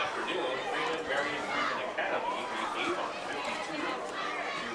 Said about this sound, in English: Looks like a good crowd here tonight